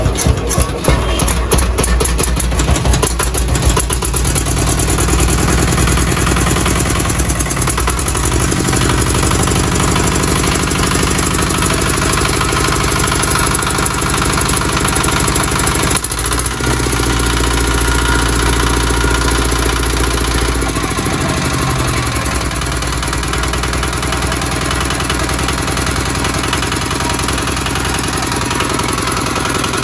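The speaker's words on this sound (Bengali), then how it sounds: "গাইস, আপনারা দেখতে পারলেন ইঞ্জিনের সাউন্ডটা কতটা সুন্দর।" An old EM 185 China 8.5 HP single diesel engine idles loud and close, a steady clattering chug that runs unbroken for half a minute, with only slight shifts in its tone.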